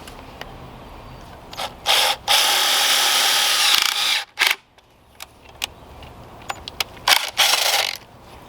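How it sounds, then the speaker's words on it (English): A power drill whirs in several bursts while drilling holes for a concrete rocket stove feed ramp, short ones then a long sustained run, close and loud, with brief pauses between. "I'm going to drill each side independently."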